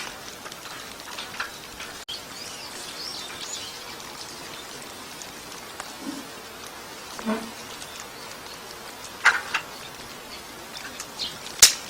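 Rain begins falling in a small home rose garden, scattered light drops tapping and ticking on surfaces among soft outdoor ambience, with a few sharper nearby hits.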